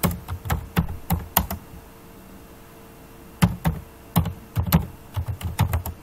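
Computer keyboard keys tap out a narration in Tally accounting software in quick irregular bursts, close and crisp, with a quiet pause in the middle and no talking.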